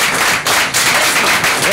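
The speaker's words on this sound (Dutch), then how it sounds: "Mag een applaus voor Henen." An audience at a poetry club evening in Rotterdam claps for a performer, a dense, steady burst of applause filling the room with brief dips.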